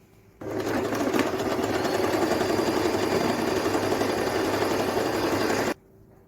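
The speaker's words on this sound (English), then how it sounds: "We're top stitching the fabric on our foam round." A sewing machine runs steadily for about five seconds, top stitching fabric onto a foam cap crown for a senator's cap, then stops abruptly; the motor hums and needle chatter is loud and close with no speech.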